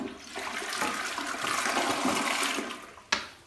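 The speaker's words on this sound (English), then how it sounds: "all of the restrooms here are equipped with the new water efficient toilets" A water-efficient toilet with a single push button flushes in a restroom, a loud close rush of water that swells and then drains away, ending in a sharp click.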